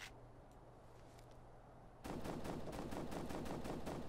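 Gunfire in the tactical shooter Ghost Recon: Future Soldier. After two seconds of low background hum, rapid repeated shots burst out loudly and keep going in a fast, even rhythm until the end.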